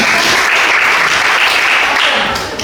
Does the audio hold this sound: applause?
yes